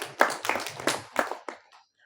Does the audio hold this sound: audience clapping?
yes